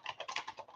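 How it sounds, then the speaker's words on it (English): Close computer keyboard typing comes in a quick, even run of about seven soft key clicks, quiet and alone without any voice. "let me get my keyboard so I can type this up"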